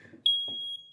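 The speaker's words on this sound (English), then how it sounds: "that's a smoke alarm." Smoke alarm sound played back: one sharp, piercing electronic beep holding steady for about half a second, with brief talk before it and around it.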